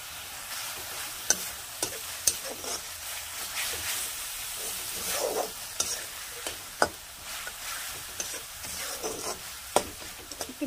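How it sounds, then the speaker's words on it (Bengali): Salted sea fish sizzles in a hot pan in a village kitchen: a steady, fairly loud frying hiss broken by sharp oil pops and spatters, with occasional clicks of stirring and no talking. "একটু ভাজি।"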